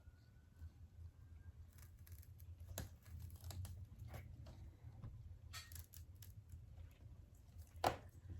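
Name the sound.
scissors cutting a plant stalk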